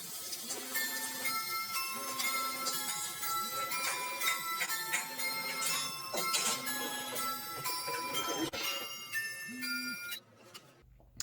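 An infamous mobile phone ringtone from a film rings in a Chinese restaurant. A loud, bright melody repeats in short phrases for about ten seconds, then cuts off abruptly.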